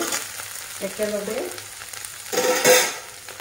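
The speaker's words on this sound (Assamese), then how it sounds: "তেলত ভাজি লৈছো" Turmeric, cumin powder and masala spices fry in hot oil for a local chicken curry with long pepper, giving a steady close sizzle with stirring scrapes and a brief spoken word.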